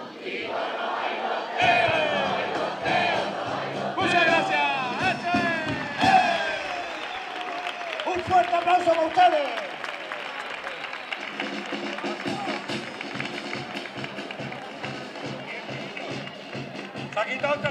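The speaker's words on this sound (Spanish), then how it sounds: "Muchísimas gracias por estos aplausos tan efusivos hacia nosotros." An audience at a Cádiz carnival performance in Gines cheers, shouts and applauds in loud bursts. A voice speaks over the crowd in places, and rhythmic clapping carries on near the end.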